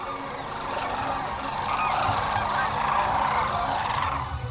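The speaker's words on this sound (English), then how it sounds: "Today you will witness the sandhill cranes on one of their most favored stretches of river." Sandhill cranes on a favored river stretch during spring migration, a dense flock calling continuously in an overlapping, rolling chorus that swells slightly, heard at moderate distance with no talking.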